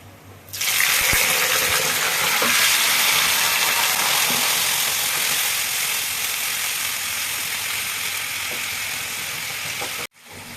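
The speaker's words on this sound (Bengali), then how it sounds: "দারচিনি দিয়ে দিলাম, গোলমরিচ দিয়ে দিলাম। দিয়ে দেবো আমি ম্যারিনেট করা খাসির মাংস।" Marinated mutton dropped into a hot pot with cinnamon and black pepper for biryani, a sudden loud sizzling rush that holds steady for about ten seconds before cutting off, close with no talk.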